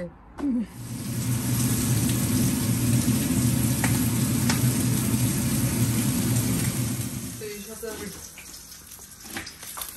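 Onions and broad bean seeds sizzle and fry in a home kitchen pan, a loud, steady crackling hiss that runs for most of the stretch before stopping abruptly near the end.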